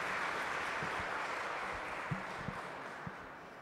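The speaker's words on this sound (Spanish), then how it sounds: "Le damos un aplauso para iniciar nuestra conferencia" Steady applause from a conference audience opens a talk on the Guadalupan Sisters, a broad continuous wash of clapping with a few sharper claps near the end, heard from within the hall.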